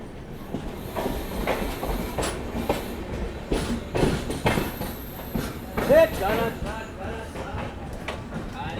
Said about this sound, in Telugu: సో మనమైతే ఖమ్మం రైల్వే స్టేషన్కి అయితే అరైవ్ అవుతున్నామండి.